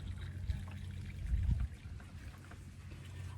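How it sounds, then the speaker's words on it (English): Watermelon pineapple juice pours through a metal strainer in a soft, low trickling gush that swells into a louder splash midway, then settles back to a quiet dribble. "I'm just gonna pour it right on top and strain it for the second time."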